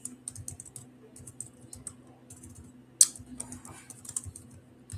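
Rapid typing on a computer keyboard, with irregular bursts of key clicks close by, one sharper louder tap near the middle, over a faint steady hum.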